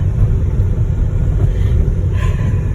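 A car drives along a road into town, steady low engine and road rumble from inside the cabin, continuous and fairly loud, no talk.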